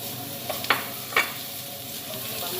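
Ginger pieces hitting hot oil in a pot for lamb leg soup, giving two short sizzling bursts over a steady low background of frying and stirring.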